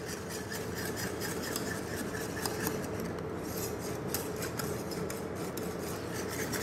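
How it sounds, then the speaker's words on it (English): Blanched vegetables and parmesan cheese are stirred into a sauce for veg au gratin, making a continuous rhythmic scraping and rubbing of a utensil against the pan at close range, with no talking. "we will mix it nicely so that the cheese melts into the sauce."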